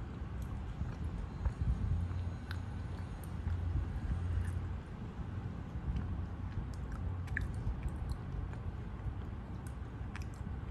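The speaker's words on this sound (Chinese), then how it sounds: "今天就吃四分一的月饼，还有一粒咸蛋黄" Steady close-up chewing of a four-yolk mooncake with salted egg yolk, soft, moist and continuous, with small sticky clicks and no talking.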